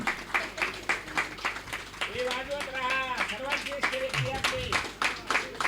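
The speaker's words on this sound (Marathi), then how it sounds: "जोरदार टाळ्या वाजवा." Audience clapping at an ashram gathering honouring an elderly devotional performer, steady rhythmic claps running throughout beneath a voice speaking and chanting.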